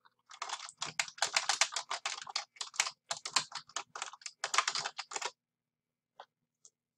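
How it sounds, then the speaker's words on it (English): Typing on a computer keyboard while writing into a Google Docs document, a dense run of quick key clicks that continues for about five seconds, close and clear, then a few scattered single taps with no voices. "And you can start typing into the document."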